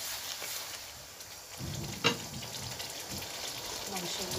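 Duck meat added to a pan of spices, a low hiss that jumps into steady sizzling partway through with a brief clatter as the pieces go in.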